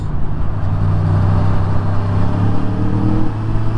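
Engine of an Aprilia Tuono V4 1100 motorcycle, a steady loud mid-pitched drone with a mild rise in revs, heard close amid traffic noise with no talking.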